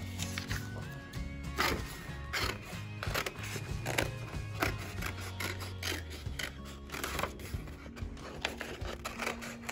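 Scissors snip through paper to cut out an origami sun, a run of short crisp cuts and rustles close up, with faint background noise and no talk.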